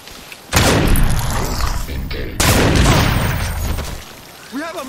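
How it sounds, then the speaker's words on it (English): Two heavy blasts from a grenade and gunfire in Crysis Remastered, each a sudden loud boom followed by a long rumbling decay, about two seconds apart, with a brief shouted voice at the end. "Grenade!"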